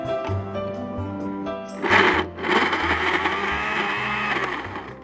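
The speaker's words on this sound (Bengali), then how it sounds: "ম্যাঙ্গোটাকে যেহেতু কাটাই আছে আমি এটা ব্লেন্ডারে দিয়ে দিচ্ছি।" A kitchen blender whirs loudly up close as it blends cut mango pieces, the motor pitch shifting and surging as the fruit churns, with no voices.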